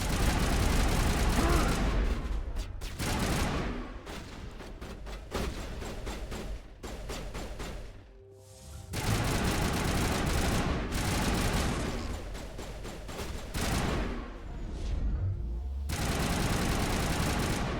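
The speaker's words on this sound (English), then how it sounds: "Yay! Explosions!" Loud sustained gunfire and explosions from a Mass Effect video game battle, with dense overlapping bursts across the whole stretch and a brief lull near the middle.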